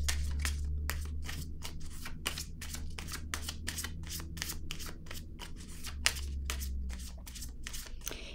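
A deck of tarot cards is shuffled and drawn close by, giving a steady run of crisp riffling snaps and slides over a low background hum, with one sharper card flick near the end.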